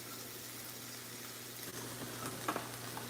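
Oil sizzles steadily in a pan while cooking ziti, a soft continuous frying hiss with a faint stir or clatter near the end, fairly quiet and close.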